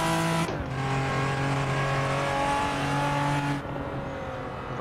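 Toyota Supra in the racing game Assetto Corsa, engine droning loud and steady with harmonic whine, tyres scrubbing under it, a brief pitch drop near the start and a softer shift in tone toward the end.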